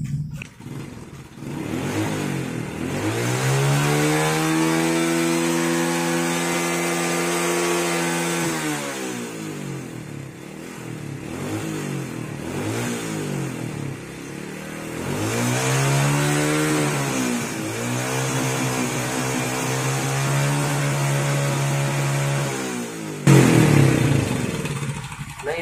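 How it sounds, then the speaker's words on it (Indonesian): A motorcycle engine with its carburetor set too rich is revved repeatedly, each blip rising into a sustained buzzing drone and then sagging back to idle, loud and close with no talking. "setelan karburator dipastikan terlalu boros"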